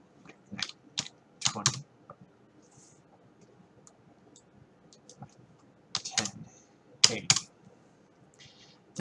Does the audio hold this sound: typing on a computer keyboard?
yes